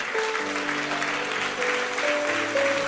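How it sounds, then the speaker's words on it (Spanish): Congregation applause at a church service, a dense continuous roar of clapping at steady loudness with sustained organ or keyboard chords playing underneath. "Si va a aplaudirle a él, póngase de pie"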